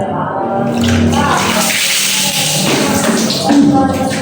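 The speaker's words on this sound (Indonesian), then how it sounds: "Pertama mandi itu pakai gayung, ada airnya, siram sampai seluruh badan." Water from a dipper is splashed over the body during a bucket bath in a bathroom, a close, broad wash of pouring and splashing with a few thuds, while a voice talks underneath.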